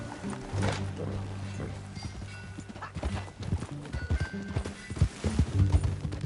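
Horse hooves clip-clop in a video game ride, a steady rhythmic trot close by under game music, with a horse snorting and people talking over it.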